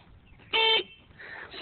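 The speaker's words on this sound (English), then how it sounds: "Honk your horn again." A single short vehicle horn honk blares out clearly, a bright tonal beep lasting about a quarter second, followed by quiet background.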